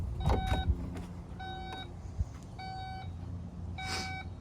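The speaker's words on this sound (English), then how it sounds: "anybody who owns a Porsche Taycan knows about this sound that it makes when you open the trunk" Porsche Taycan trunk-opening warning: a repeated electronic beep sounding in short bursts, about four tonal beep groups over a faint motor whir and a soft thud, fairly close and loud, with no talk.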